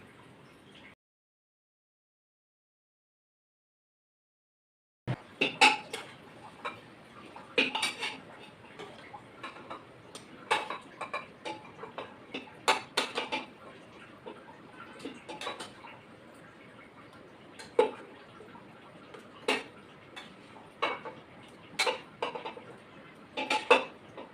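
After a few seconds of silence, metal pots and utensils clank and knock as cooked mutton curry is moved into a pressure cooker, with scattered sharp clinks and scrapes at an irregular pace.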